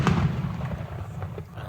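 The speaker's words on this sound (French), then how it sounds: "Le monde à côté de chez nous, ils font un petit pétard de feu d'artifice." Small fireworks or firecrackers set off by neighbours nearby, heard as a dull, muffled pop or thump at the start followed by a low rumbling tail and a couple of faint crackles.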